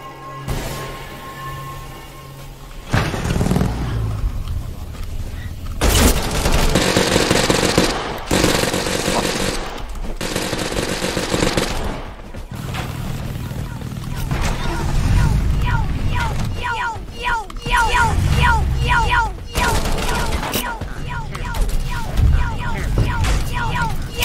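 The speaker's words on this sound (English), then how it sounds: "Who is throwing these fucking grenades?" Gunfire and grenade blasts from a Totally Accurate Battlegrounds match come in loud bursts and rapid volleys, heavy booms alternating with quicker rattling shots, while a voice talks over the action.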